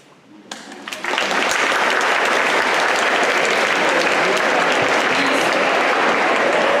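Audience applause at a Model United Nations opening ceremony in Bilbao, starting with a few scattered claps and swelling within a second into loud, dense, sustained clapping from a large crowd that holds steady to the end.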